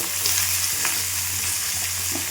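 Mixed vegetables fry in a pan with a constant loud sizzle, broken by a few soft knocks and scrapes of a spoon stirring.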